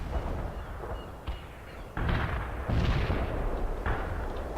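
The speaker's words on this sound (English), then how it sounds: "Firing artillery." Artillery fire in the World in Conflict war game: repeated heavy booms and rumbling blasts roll over one another in a dense, distant-sounding battlefield wash, with no talk.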